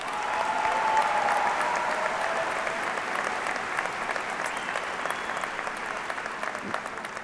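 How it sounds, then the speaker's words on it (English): Broad applause from a high school commencement crowd honoring graduating scholars, a continuous, roomy wash of clapping that starts full and slowly eases in level, with a faint tonal hum early on. "Please congratulate Nathaniel and Vivian on their honor with a round of applause"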